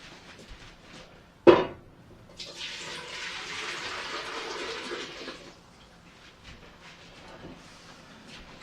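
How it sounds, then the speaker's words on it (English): Chicken broth poured back into a pot after a sharp clunk, a steady splashing pour lasting a few seconds before tapering into quiet kitchen stillness. "I'm going to take this broth and pour it back in the pot."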